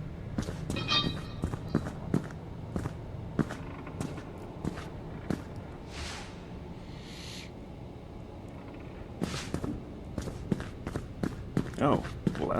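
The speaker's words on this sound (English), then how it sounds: "heading away from the sound of wet footsteps" Wet, squelching footsteps in the horror video game Order 13, a steady run of soft repeated steps at moderate distance over a low ambient bed, with a voice talking over them.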